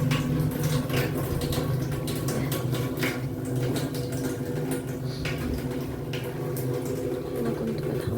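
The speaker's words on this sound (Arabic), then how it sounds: "انا بملاه وبحط فيه ميه على طول كده" Tap water runs steadily into a container being filled in a home kitchen, a constant rushing, splashing stream with no talking over it.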